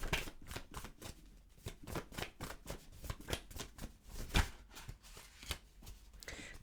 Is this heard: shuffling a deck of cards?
yes